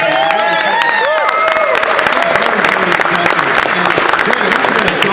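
Crowd applause for a stamp designer at a comic convention stamp launch, clapping and some cheering mixed with overlapping voices and whistly tones, steady and fairly loud throughout the short stretch.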